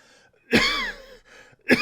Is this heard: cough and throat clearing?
yes